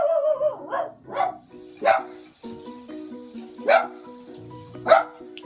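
Dogs bark repeatedly in a home kitchen, several sharp separate barks with pauses between them, while someone talks over them intermittently.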